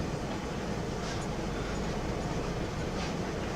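Steady rumbling rail noise with a constant rushing hiss as a truck drives onto a train in a video game, loud and continuous with no voices.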